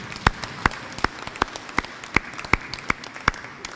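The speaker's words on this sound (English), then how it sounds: "So let's give them a round of applause for making an effort." Evenly spaced, sharp claps at a graduation ceremony for graduates in black gowns, landing about every second in a slow steady rhythm, moderately close with a quiet background between them.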